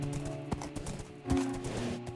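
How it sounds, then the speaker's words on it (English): Horse hooves in Minecraft, a few soft clip-clop steps at moderate distance, with a brief whinny-like tone partway through over a faint background. "So we can finally ride out of here and be free on our horse"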